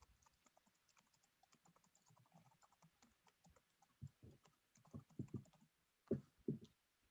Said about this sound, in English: I keep forgetting to mute and I'm typing away.